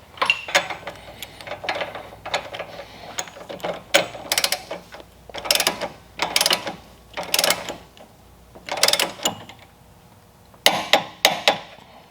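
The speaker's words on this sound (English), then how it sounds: "we're going to go ahead and torque this, and it's 59 foot-pounds" Torque wrench clicking and ratcheting as a suspension bolt on a Nissan 350Z rear differential and ball joint setup is tightened to spec, with repeated bursts of sharp mechanical clicks close by and no talking.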